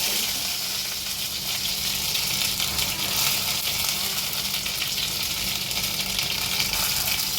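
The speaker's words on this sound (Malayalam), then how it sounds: "ഉലുവയൊന്ന് മൂത്ത് വരുമ്പത്തേന് ഒക്കെ കുറച്ച് കറിവേപ്പിലയും കൂടെ ഇട്ട് കൊടുക്കാം" Fenugreek seeds and curry leaves sizzle in hot oil while making an egg roast, a steady, loud crackling hiss that runs unbroken and alone throughout.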